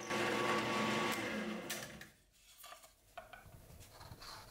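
Close, steady whine of a drill boring a hole for a power cord through a wooden lamp base, dropping off midway into light scraping and handling clicks before resuming at a lower level.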